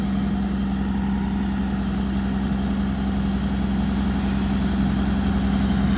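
V-shaped V8 or V6 engine of a used combine harvester running steadily at idle, a constant low hum with a strong steady tone and vibration throughout, close and loud.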